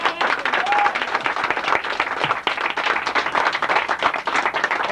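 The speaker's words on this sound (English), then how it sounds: "we think the coaches deserve a round of applause." Sustained crowd applause for coaches at a youth baseball awards picnic, a thick wash of clapping hands that carries on steadily, with a brief whistle-like tone early on.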